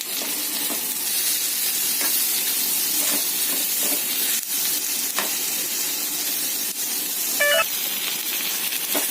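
A pan of masala paste for okra gravy roasts with a broad, continuous sizzle and steam hiss, steady and close throughout, with a few faint clicks of stirring and no talking.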